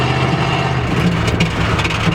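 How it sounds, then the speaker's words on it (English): A budget sleeper car with a broken, popped exhaust runs loud and close, a heavy, rough engine drone holding steady throughout without speech. "I think I broke the exhaust."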